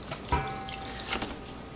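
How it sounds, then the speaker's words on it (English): Tap water runs steadily into a pot or sink holding a deboned turkey soaking in salted, vinegared water, a close continuous splashing stream with no talking. "I'm gonna raise the water level until it covers the skin"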